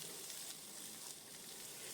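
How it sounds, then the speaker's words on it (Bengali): Fenugreek seeds frying in oil left over from frying rohu fish for an Assam-style sour fish curry, giving a steady, dense sizzle and crackle that stays close and even throughout, with no talking. "ওই তেলটার মধ্যেই আমি মেথি ফোড়ন দিয়ে দিলাম এক চামচ মতো"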